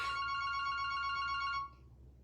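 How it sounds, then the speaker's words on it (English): A single ring of a telephone bell, a bright sustained tone that stops abruptly and leaves a faint hum. "Sorry guys, telephone's ringing."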